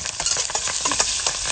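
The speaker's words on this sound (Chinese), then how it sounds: "葱姜蒜一下锅" Scallion, ginger and garlic hit a hot wok and stir-fry, giving a loud, bright, crackling sizzle in quick bursts over a short moment, with no talk.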